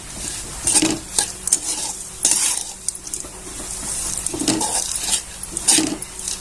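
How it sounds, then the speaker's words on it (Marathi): Coconut pieces and roasted gram dal being dry-roasted together in a pan give repeated scraping stir strokes with light sizzling between them, close and fairly loud, with no voices. "खोबरं पण भाजून घ्यायचं"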